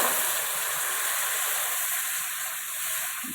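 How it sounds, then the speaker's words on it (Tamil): Steady broad hiss and sizzle of boiling water poured onto semolina roasted in ghee, continuous and close with no voices. "கொதிக்கிற தண்ணியை ரவையில் ஊற்றிப்போம்."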